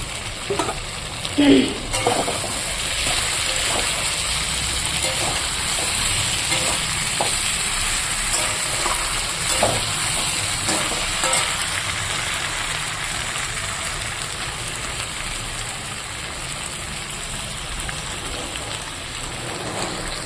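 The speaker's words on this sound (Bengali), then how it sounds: "মটন লাল লাল ঝাল ঝাল করে কষিয়ে নিচ্ছি" Mutton braising and frying in a pan for a spicy red curry gives a steady, dense sizzle and crackle with stirring scrapes, continuous and close throughout with no talking.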